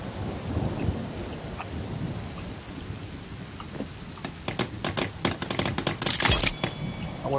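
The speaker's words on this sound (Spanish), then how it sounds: "ya va a llover" Rain falls steadily in the game The Forest, with a series of sharp, loud thunder cracks building up near the end, no talking over it.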